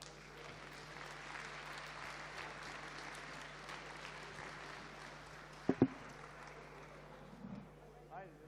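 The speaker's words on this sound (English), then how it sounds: "We could have a round of applause for Fnatic MSI." An esports tournament audience at the DotA 2 finals applauds the runners-up. The clapping is dense, steady and moderately distant, with a couple of sharper thumps near the end.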